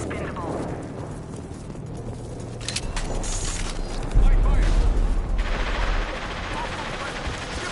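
Concussive shot fire and gunfire in Mass Effect 2 on PS4, with a heavy, loud burst of impacts and low rumble midway through a dense mix of combat noise and game speech.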